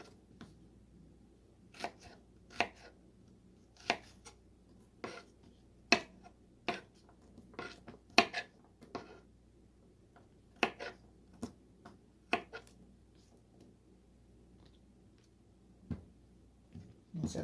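Onions cut with a knife on a board, a series of sharp, separate chopping taps at an irregular, unhurried pace, close and clear against a quiet background, with no talking.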